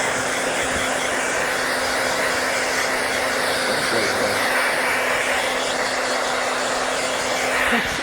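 A handheld hair dryer blows steadily through a salon blow dry, a loud continuous whoosh with a faint motor hum that holds unbroken from start to finish.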